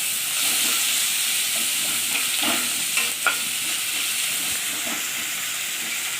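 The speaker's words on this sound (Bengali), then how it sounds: "পেঁয়াজ কটা ভালো করে আমি লাল লাল করে ভেজে নেব" Chopped medium onions frying in oil in a pan for a Bengali fish curry, a constant soft sizzle and hiss with occasional stirring clinks, close and alone without talk.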